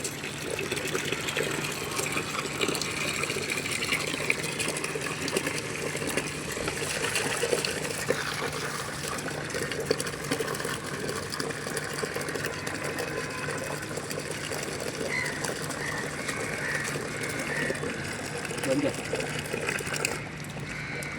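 Electric motor pump spraying soapy water onto solar panels, a steady whirring hum mixed with rushing, splashing spray, continuous and close throughout.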